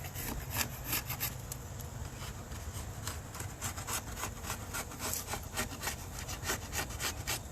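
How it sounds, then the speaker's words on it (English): Sticky propolis buildup is scraped off a wooden beehive with rapid, rhythmic rasping strokes, close and fairly loud, repeating steadily with no talking. "Just scrape this off"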